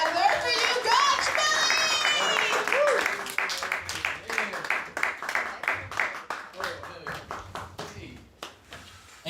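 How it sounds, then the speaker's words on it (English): At a comedy open mic, an audience's clapping starts amid cheering and chatter, then thins into distinct, uneven individual claps that slow and fade toward the end. "Clap your actual hands together for you, Gotch"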